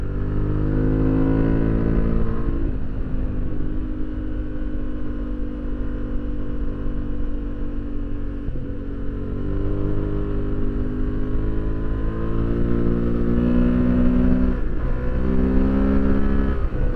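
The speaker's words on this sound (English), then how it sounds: "accelerating your bike pretty hard through these twisties" An adventure motorcycle on Tusk 2Track adventure tires accelerates hard through twisting roads, its engine note rising and falling through several gear-driven surges, loud and continuous with wind rush and no talking.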